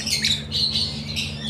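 A pet parakeet squawks in a few shrill, rapid bursts close by, the calls running almost continuously with no talking.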